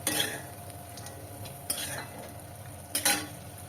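About a hundred grams of nuts frying in oil over low to medium heat, a quiet steady sizzle broken by a few short scraping stirs of a utensil.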